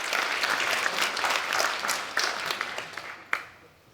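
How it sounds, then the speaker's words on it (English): Keynote audience applauding the speaker's wife as she stands, a dense round of clapping that thins out into a few scattered final claps. "You guys would give her a round of applause."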